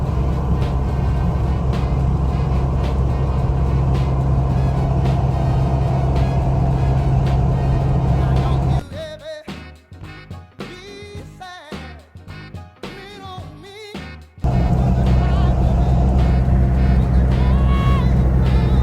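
A vehicle fitted with Spicer 5.13 gears cruises on a highway at about 70 mph and 2,600 RPM, giving a loud, steady low engine and road drone. The drone drops away to a quieter, choppier stretch midway, then resumes.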